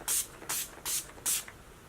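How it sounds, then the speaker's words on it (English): Makeup setting spray misted from a pump bottle in four quick, evenly spaced hissing sprays, close and crisp with near silence between them. "Let me put on some setting spray."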